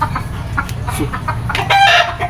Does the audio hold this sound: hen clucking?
yes